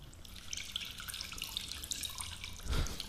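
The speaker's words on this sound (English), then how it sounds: "let's get some water sound effect noises for when she comes back" Running water streams steadily like a tap pouring, with a hissy trickle throughout and a heavier gush swelling near the end.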